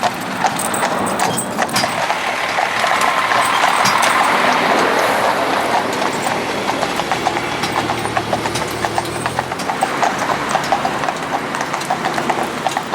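Steady clip-clop of a pair of Friesian horses trotting on a hard road, hooves beating a quick, overlapping rhythm that continues throughout, fairly close and loud.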